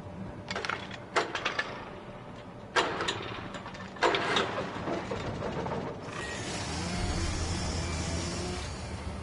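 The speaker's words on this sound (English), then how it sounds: "I needed to get the generator running." Generator being started in Alan Wake Remastered: several sharp mechanical pulls and clanks, then the engine catches and settles into a steady loud running drone.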